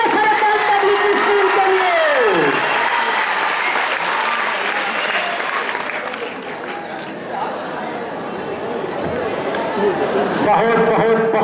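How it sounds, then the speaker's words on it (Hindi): Loud, sustained applause from the audience at a prize distribution function for a general knowledge competition, with a voice speaking over the clapping and a brief dip in loudness partway through. "गिफ्ट स्वीकार करते हुए जोरदार तालियां"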